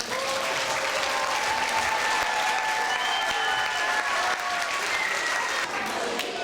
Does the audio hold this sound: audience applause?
yes